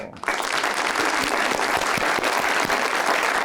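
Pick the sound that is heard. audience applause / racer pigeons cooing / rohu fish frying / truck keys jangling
audience applause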